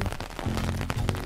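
Cartoon sound effect of rain falling, a steady patter of droplets hitting a surface with a low tonal hum underneath.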